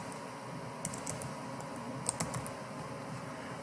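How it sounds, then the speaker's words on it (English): Keys on a computer keyboard are tapped in a soft, irregular patter of light clicks, faint against a steady room hiss, with no voices. "you type in the URL link to the article"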